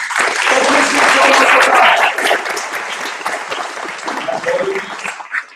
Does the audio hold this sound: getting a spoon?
no